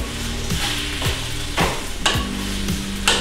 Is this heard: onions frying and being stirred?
yes